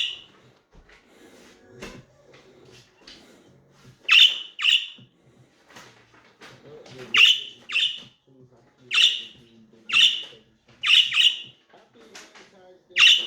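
A pet budgie, flying at a TV showing itself, gives repeated sharp chirps and squawks in bursts, close and loud, with quieter low sounds between calls.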